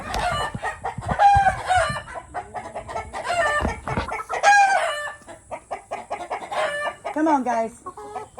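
Chickens kept in a dog kennel run cluck and squawk close by in a busy, continuous chatter, with a person briefly speaking among them.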